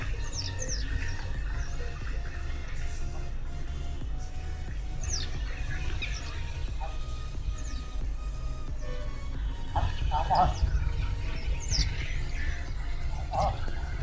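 Birds call and chirp in short scattered bursts over a farm with tomato plants beside water and nearby hills, faint to moderate against a steady low outdoor rumble, with no talking.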